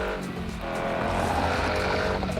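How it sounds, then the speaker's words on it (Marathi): A car engine roars loudly and steadily for a few seconds, close by and heard on its own without talk. "भाई काय गाडी भाई काय आवाज आहे"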